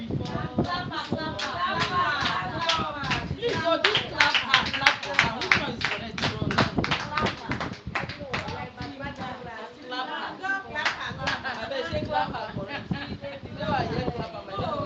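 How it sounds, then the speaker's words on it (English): Hands clap in quick repeated bursts in a Montessori classroom, mixed with constant voices talking and chanting over the claps. "clap your hand, clap your hand, clap your hand"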